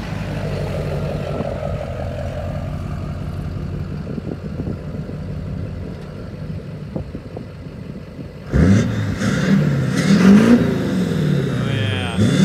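A Chevy diesel pickup truck idles with a low rumble, then abruptly roars as it accelerates hard, the engine note climbing loud and close, with no one talking over it.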